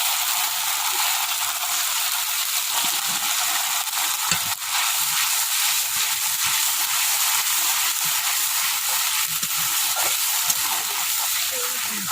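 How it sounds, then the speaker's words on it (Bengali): Garlic and spice paste for a rui fish curry being stir-fried in a pan, a loud continuous sizzle with spatula scrapes and stirring knocks throughout. "ভালো করে কষিয়ে নেব"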